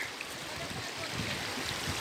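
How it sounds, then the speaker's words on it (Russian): The Butakovsky waterfall pours in a mountain setting, a continuous broadband rush of falling water that stays even and moderately distant throughout. "Ну Вот он красивый водопад."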